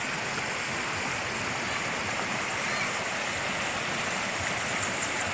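River water flowing, a constant broad rushing and gurgling wash, close and steady for the whole stretch with no breaks.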